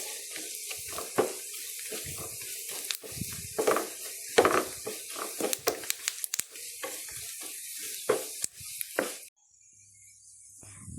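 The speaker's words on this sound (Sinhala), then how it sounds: "කෑලි මිරිස් මෙල් සැහැඳි එකහමාරකුත් තෙම්පරාදුවට එකතු කරගෙන මේ ආකාරයට හොඳින් කවලම් කරගන්නවා" Chili flakes and spices sizzle and crackle in hot oil for a dhal curry tempering, with dense frying hiss, scattered pops and a stirring spoon scraping the pan, going quiet near the end.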